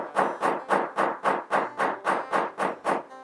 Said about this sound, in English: So I'm going to go ahead and hammer this straight up and down.